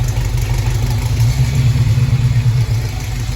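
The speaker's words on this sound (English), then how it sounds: "We have engine running. We got a bad injector, but I just wanted to hear what the exhaust sounded like." A 1969 Pontiac Firebird engine with a bad injector runs steadily, its deep rumbling exhaust loud and close, with no talking.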